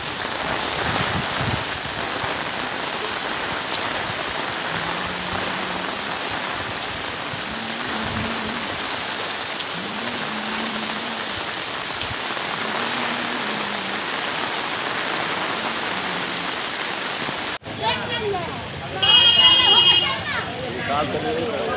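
Heavy, continuous rain over a flooded city pours steadily for a long stretch, with a recurring low tone and a brief break near the end.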